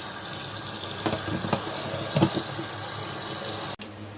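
Clean filtered water runs steadily from a tap while beef brisket is rinsed, with a few soft knocks and splashes, before the flow cuts off abruptly near the end.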